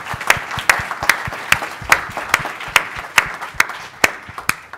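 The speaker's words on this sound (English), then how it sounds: "Let's give them a round of applause." An audience at a community health sciences event applauds a panel, a dense, steady round of clapping with sharp individual claps standing out close by, no talk over it.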